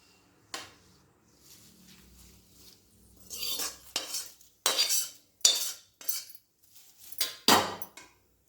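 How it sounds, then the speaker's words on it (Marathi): Hot tempering being poured over thin poha for chivda and mixed, heard as a series of close metallic clinks and scraping stirs in a pan, with quiet gaps between strokes. "आता ही जी फोडणी आहे ती आता गरम गरमच आपल्याला पोह्यांवर घालून घ्यायची आहे"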